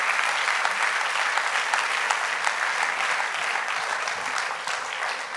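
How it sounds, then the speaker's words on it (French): Sustained audience applause at an event honouring a Breton dancer, loud, dense and even clapping from a large crowd, slowly easing toward the end. "On peut applaudir très très très fort Inès."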